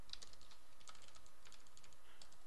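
Quick irregular keystrokes on a computer keyboard while Java chat-client code is being written, a few sharper clicks standing out over a faint, steady room hiss, with no talking.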